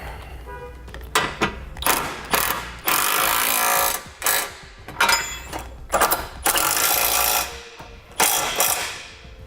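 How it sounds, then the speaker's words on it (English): A hand ratchet with a 3/4 inch socket clicks in repeated quick bursts from underneath a 2016 vehicle, tightening base plate bolts, with brief pauses between strokes. "now we'll tighten down these two. Use a 3/4 inch socket from underneath."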